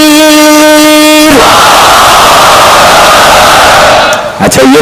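A large crowd at a Muharram majlis for Imam Husain roars the takbir slogan in a loud, sustained collective shout, preceded by a single voice leading the call and ending in scattered cries.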